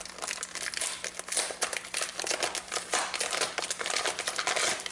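Cardboard shipping box sealed with heavy packing tape being pried and torn open, a dense run of close crinkling, ripping and crunching bursts with no pauses.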